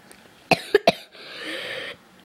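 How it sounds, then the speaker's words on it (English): A person with a bad cold gives several sharp, close coughs in a quick burst, then a harsher rasping breath or throat-clearing, and one more cough at the very end. "I'm coughing like so much."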